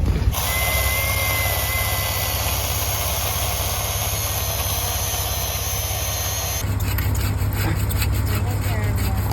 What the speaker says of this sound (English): He's got the chainsaw now.